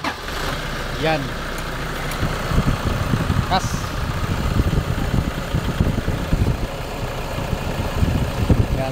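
A Toyota Innova engine idles just after starting with the air conditioning running: a steady, close rumble and rushing roar under someone talking throughout.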